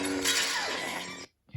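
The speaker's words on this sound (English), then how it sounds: "Here's flash shattering." A lightsaber flash-shattering effect from an Emperor sound font on a Proffie saber board: a loud, dense burst of crackling, glassy shatter noise lasting over a second before cutting abruptly to silence.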